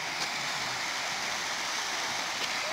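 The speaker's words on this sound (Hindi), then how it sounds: "पानी की आवाज़ अच्छी लग रही है" Colourful fountains in a garden at night send out a steady, even rush of splashing water, a continuous hiss close by with no voices over it.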